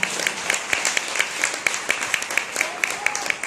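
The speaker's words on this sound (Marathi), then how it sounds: "आमच्या सर्व वादकांसाठी जोरदार टाळ्या" Audience applause for the accompanying musicians at a Marathi devotional bhajan performance: dense, steady clapping with sharper individual claps popping out, moderately close and continuous throughout.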